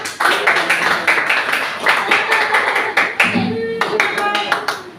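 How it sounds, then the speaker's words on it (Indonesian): A group of teachers at the close of an academic supervision coaching session claps together, a loud, dense round of hand claps with a few sharper individual claps, while voices also talk through it. "kita tepuk tangan dulu untuk kita semua"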